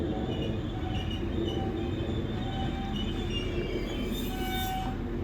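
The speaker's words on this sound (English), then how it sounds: "there's a 195 going to Leeds" A Class 195 train bound for Leeds passes through Earlestown station, a steady rumbling roar of wheels on rail with faint high squeals and tonal whines running throughout, fairly loud and continuous with no voices.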